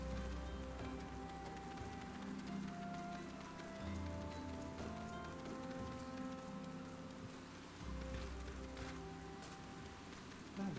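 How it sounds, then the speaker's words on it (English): Continuous patter of rain in the video game Final Fantasy XIV Online, falling over a low, steady background hum, with faint scattered drips and no talking. "Is it supposed to be raining or is this part of my cutscene?"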